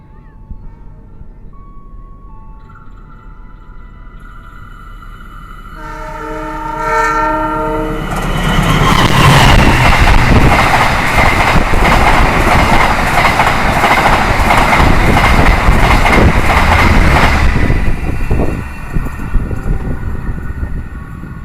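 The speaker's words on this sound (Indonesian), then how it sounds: "Kereta api Taksaka barusan menyusul kereta api Argo Merbabu Tambahan yang saya naiki." A train horn sounds, then a loud rushing roar of the Taksaka express passing close at speed with rattling wheels, heard from aboard the Argo Merbabu train, fading slightly at the end.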